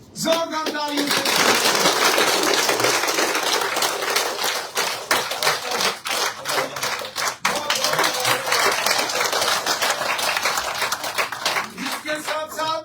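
Loud, sustained clapping from a crowd at a political gathering in Poonch, welcoming a leader joining the BJP, dense and continuous for most of the stretch with brief dips.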